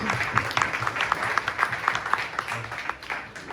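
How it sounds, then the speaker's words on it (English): A tech event audience claps for a speaker in a moderate round of applause with distinct nearby claps over a softer crowd patter, lasting a few seconds. "Everybody please give a big round of applause."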